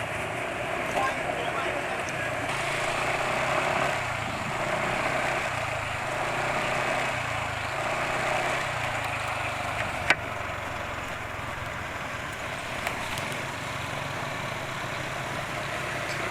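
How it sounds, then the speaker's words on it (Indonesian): A car engine with worn engine oil at 79 km idles with a rough, uneven low rumble and faint rattling vibration, steady throughout, with a couple of small clicks. "Jadi suara mesin sudah asak-asak ya."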